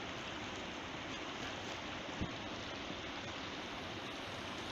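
A mountain stream rushes steadily nearby in Pakistan's Jahaz Banda area, a constant loud wash of flowing water with no pauses.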